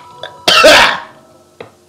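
A single sharp, loud cough burst from a person nearby, preceded by a faint throat sound and followed by a small trailing cough, with no speech.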